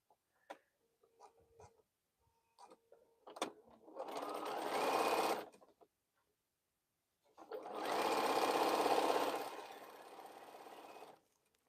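Sewing machine stitching quilt fabric in two sustained bursts of about two and four seconds, close and loud, with small clicks and handling sounds before and between the runs.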